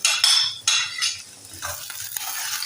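Roughly chopped tomatoes tipped into a pan of golden brown onions for an anda ghotala egg dish, a few scraping stirs and clinks over a soft sizzle, close and clear.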